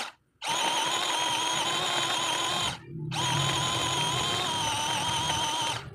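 A power grinder or blender motor grinds meat filling for Shanghai spring rolls, a loud steady whine that runs in two long bursts with a short break between them, alone with no voices.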